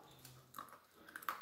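Crunchy birthday candy is chewed close to the mic, a few quiet, brief crunching bites over about a second and a half, with no talk.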